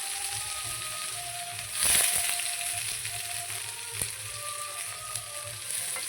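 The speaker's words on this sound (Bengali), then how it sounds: "এখন আগে পেঁয়াজটা ভেজে দেবো।" Onions frying in oil at the start of a meat curry, a soft steady sizzle with a louder hiss near the start as they go into the pan, then a few light clinks.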